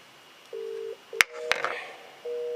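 A Teams call rings out over a phone line: steady tones in evenly spaced bursts with a pause between them, plus a couple of sharp clicks in the gap.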